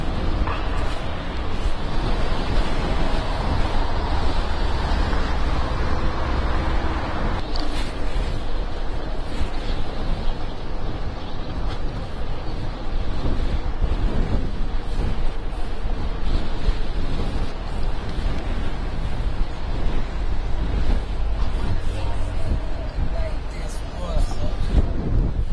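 Strong wind buffets the microphone during a ride on a windy day, making a continuous low rumble and roar while a person talks over it.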